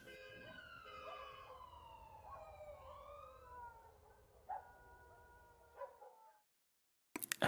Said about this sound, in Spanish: suenan alarmas de tiendas y coches, sirenas de emergencia que nadie apaga